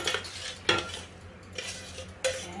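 Strawberries being put into a bowl make a few close clinks and scrapes of utensils against the dish, spread across a few seconds, with no voices.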